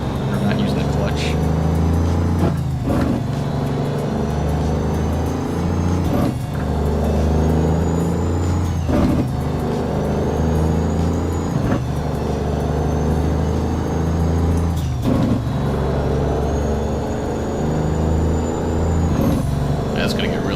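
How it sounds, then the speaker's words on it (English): A custom Kenworth W900 truck with its jake brake engaged in American Truck Simulator: constant low engine drone with repeated sharp pops and tonal whines at each gear change, under continuous talking. "Looks like we're driving with the jake brake on the whole time."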